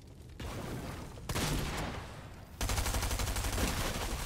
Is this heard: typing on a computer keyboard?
no